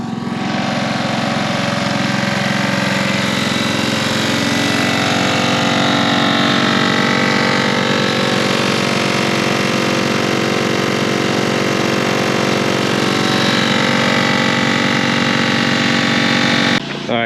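The small engine of a gold prospecting pump runs continuously at a steady, loud drone with a throbbing rumble throughout, close by and without a break.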